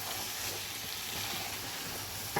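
Grated carrots fry in ghee for gajar ka halwa, giving a steady close sizzle with faint stirring under it and a small knock at the very end.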